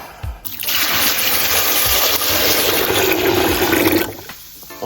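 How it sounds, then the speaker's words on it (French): Water pours onto boilie carp fishing bait, a continuous rushing gush for about four seconds, close and fairly loud, starting and stopping sharply. "je vais rajouter un petit peu d'eau."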